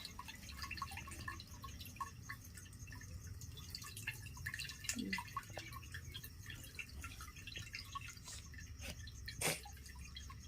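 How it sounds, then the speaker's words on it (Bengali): Water drips and trickles from soaked lentils being washed and squeezed by hand, a faint, steady patter with a few sharper drops against low background noise. "এইভাবে নিয়ে আমি ধুয়ে সুন্দর করে এরকম চেপে চেপে জল বার করে"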